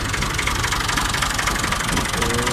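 A Massey Ferguson 240 tractor engine runs steadily and close, with a dense, even knocking chug throughout and no talk over it.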